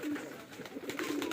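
Rajshahi giribaj pigeons coo steadily at a farm, low rolling calls repeating close by with a busy background of other birds.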